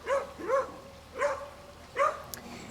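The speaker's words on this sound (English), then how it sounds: "That's my beagle." A beagle barks four times in short, separate yelps indoors, moderately close and fairly quiet, with a brief pause before the last two.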